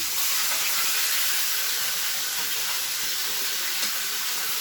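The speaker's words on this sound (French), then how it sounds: "Je le fais saisir et vous donner une petite couleur et je le retourne" Loud, steady sizzling hiss of veal for osso buco searing in a hot pan, constant and close with no talking.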